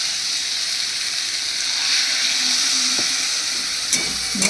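Spice paste sizzles and fries steadily in a pan after a splash of water, a continuous close hiss with faint stirring clinks near the end, no talking.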